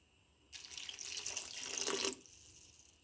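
Water pours steadily into a pot of lentil and ridge gourd curry for about one and a half seconds, a close, bright splashing stream that starts abruptly and cuts off, with quiet kitchen background on either side.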